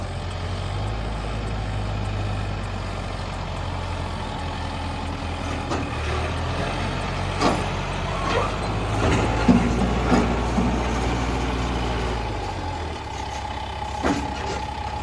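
A tractor's low, rumbling diesel engine drones steadily throughout, with occasional clanks and rattles over the constant heavy hum.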